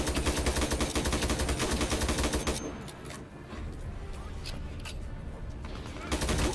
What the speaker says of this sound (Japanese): 奥から撃ってきている